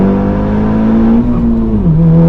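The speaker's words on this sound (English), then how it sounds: "Let's give it a rev." A car engine revving at the Nürburgring makes a loud, close, steady drone that holds its pitch, rises briefly, then drops slightly near the end; no talking over it.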